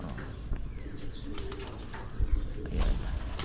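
Pigeons in a breeding loft coo in low, repeated murmurs close by, mixed with rustling and a few soft wing flaps and chirps, with no talking.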